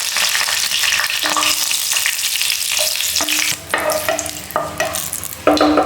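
Two bay leaves and a dried red chili sizzle in hot oil for a chicken dish, a steady loud crackle with sharper pops and bursts as they hit the pan.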